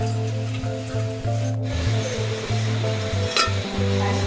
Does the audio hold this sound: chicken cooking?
yes